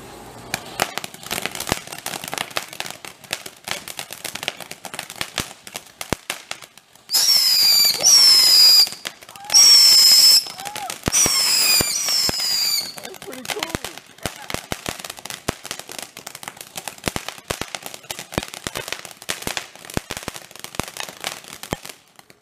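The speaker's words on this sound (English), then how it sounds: "Fireworks status. Fireworks status." Fireworks and firecrackers at a July 4th celebration crackle in dense rapid bursts with whistling rockets, loud and near, amid scattered pops and background chatter.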